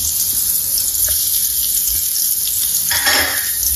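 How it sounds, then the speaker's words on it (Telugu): Chopped onions sizzling in hot oil in a pan for potato kurma, a steady close hiss that runs throughout and swells briefly near the end, with no talk. "నూనె హీట్ ఎక్కిందండి ఇందులో మనము ఆనియన్స్ యాడ్ చేసుకున్నాము"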